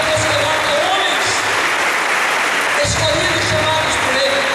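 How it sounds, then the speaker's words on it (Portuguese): A church audience at a formation meeting applauds, steady dense clapping that stays loud for the whole few seconds. "Agora, o nosso querido Papa Francisco, então aplauda a nossa igreja, porque é um chamado de Deus"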